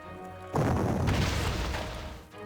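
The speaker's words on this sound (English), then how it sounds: "Fire artillery." Artillery fires in a World War II strategy video game, a single loud booming blast that rolls on for about two seconds before fading, with no talk.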